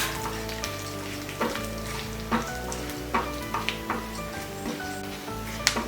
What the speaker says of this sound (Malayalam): നല്ലപോലെ ഇളക്കി കൊടുക്കുക.